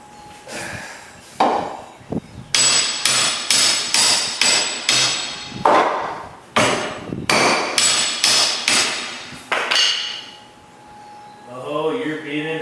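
A big hammer strikes bolts in a rapid run of sharp metallic blows, loud and close, with pauses between bursts and a short spoken word near the end.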